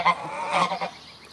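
Farm geese honk in a short burst of nasal calls, several overlapping squawks close by against a quiet background.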